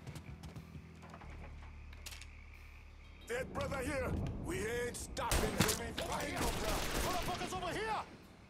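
Gunfire in the video game Mafia 3 Definitive Edition on PS5, hard mode: a few sharp shots in the opening seconds, then someone talks over continuing game sounds.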